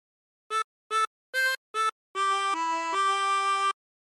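Short phrase from a song on a 24-hole tremolo harmonica, with four quick separate reedy notes followed by one long sustained held tone that shifts pitch twice, close and clear with no talking.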